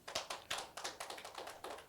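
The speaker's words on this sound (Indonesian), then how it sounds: "Tepuk tangan buat Yesus." Church congregation clapping during a Sunday worship service, a quick series of sharp, fairly even claps about four per second, faint and with no talk.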